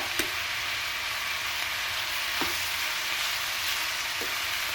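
Onions with chili powder, turmeric and garam masala sizzle steadily in a pan for an onion palya, a close, even frying hiss broken by a few sharp taps of the stirring spoon.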